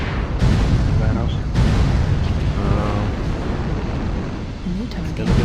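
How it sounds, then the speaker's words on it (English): Missiles bursting in MechWarrior Online, a run of heavy booming explosions and crackling blasts layered over continuous battle rumble, loud and close, with a voice speaking over the action. "Incoming missile."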